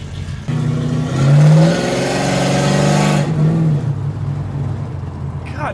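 A 1970 Dodge Charger RT's V8 revs loudly up close, one long throaty surge that rises, holds and falls away, then idles after a blip.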